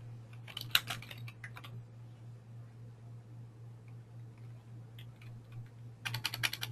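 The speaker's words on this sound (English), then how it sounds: "we can also just simply type in the name" Fingers tap on a computer keyboard in two quick clusters of clicks, one early and one at the end, close and fairly quiet over a steady low electrical hum.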